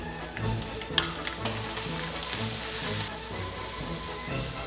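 Carrots, onion, ham and two spoons of ketchup sizzle in a frying pan for omurice, a steady close crackle with a few clacks of stirring and no talk.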